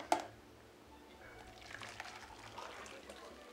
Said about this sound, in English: Now you're going to want to pour your soup into the Tupperware.